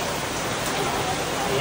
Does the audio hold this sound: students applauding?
no